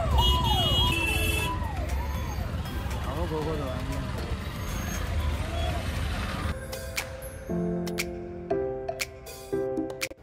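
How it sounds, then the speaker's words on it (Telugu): An ambulance siren wails through a Delhi traffic jam at night, its rising and falling tone sounding at a moderate distance beneath traffic rumble, car horns and nearby talk. "అంత ట్రాఫిక్ జామ్లో అసలు అంబులెన్స్ ఎప్పుడు బయటకు వస్తుందో నాకైతే అర్థం కాలేదు"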